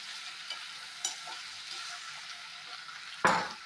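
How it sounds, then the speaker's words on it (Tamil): Ivy gourd sautéing in a pan gives a soft, steady sizzle with a few light stirring taps, closing with a louder scrape of the spoon against the pan. "கொஞ்ச நேரம் மூடி போட்டு ஒரு 5 நிமிஷத்துக்கு ஒரு வாட்டி இப்படி வதக்கி விடுங்க."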